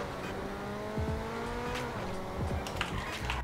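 A Coquette D10 Corvette sports car roars through gear changes in a driving video game, its loud engine tone rising and falling with sharp shifts and brief tire squeals, with no talk.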